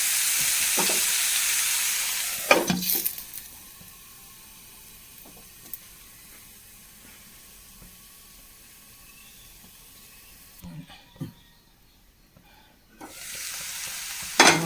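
Eggplant stir-fry (upperi) cooking in a covered pan, a loud sizzle that dies down to a faint, steady simmer under the lid, with a few clanks of the lid and utensil and a louder sizzle returning at the end.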